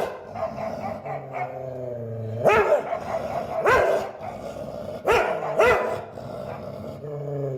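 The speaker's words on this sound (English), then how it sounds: "They're barking through the door." Several dogs bark and growl from behind a closed door during a multi-dog conflict, loud repeated barks in bursts with yips and low growls between them.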